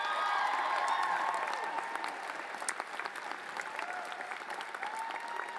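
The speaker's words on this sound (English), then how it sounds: "So let's give them all a round of applause." At a high school graduation ceremony, the audience applauds teachers, counselors, coaches and parents: a large crowd's sustained, dense clapping that sounds fairly distant and roomy, strongest at the start and easing slightly as it continues.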